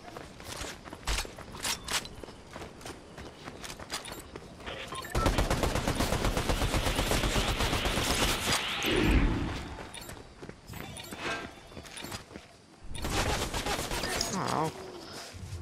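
Rapid automatic gunfire in Fortnite pounding at a built structure, loud dense bursts repeating through the middle and end, with footsteps and game sounds between them and someone talking now and then.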